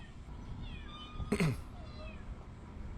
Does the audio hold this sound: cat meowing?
yes